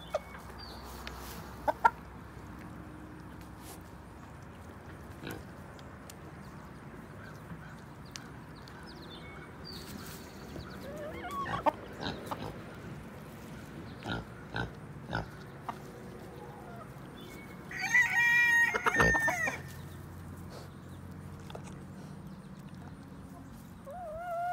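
Backyard chickens cluck on and off at low level among farmyard noises, with a brief louder burst of fowl calling near the end; no clear rooster crow stands out.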